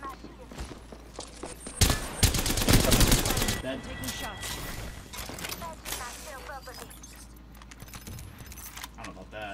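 Gunfire from the video game Apex Legends crackles in rapid bursts, loudest in a dense volley early on, followed by scattered shots and clattering effects at moderate volume.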